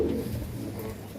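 Malwahi racing pigeons coo softly, low throaty murmurs close by, the calls blending together over a steady faint background hum.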